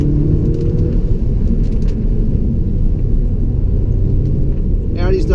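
A 2017 Audi S3 sedan under full throttle on a wet road, its engine a constant deep rumble with road and tyre roar filling the cabin, steady and loud, with a faint voice partly masked beneath.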